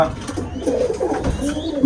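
Racing homer pigeons coo inside a netted pigeon farm, low rolling calls repeating through the clip at moderate loudness, with faint voices in the background.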